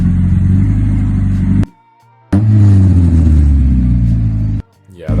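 A Mazda Miata engine revs hard twice through a loud, cheap aftermarket Manzo exhaust, each deep rumbling burst cut off abruptly by a short silence.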